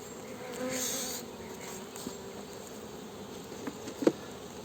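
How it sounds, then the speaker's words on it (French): Black honeybees buzz around an open hive in July, a close, steady insect hum with a louder pass of wings early on and a few small knocks and taps near the end. "là on est bien sur de l'abeille noire"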